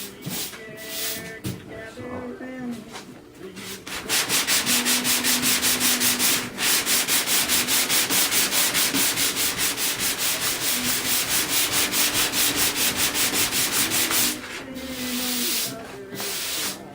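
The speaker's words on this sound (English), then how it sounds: "A lot of work, a lot of sanding." Sanding by hand along the reshaped body line of an A/FX drag car fender: a steady, loud run of rhythmic back-and-forth rasping strokes, with a few scuffs and handling sounds before and after.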